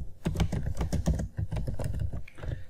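Rapid, steady typing on a computer keyboard while writing Java code, with close, crisp key clicks in a continuous rhythm.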